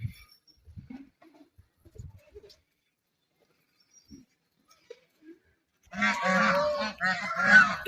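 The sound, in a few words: ducks quacking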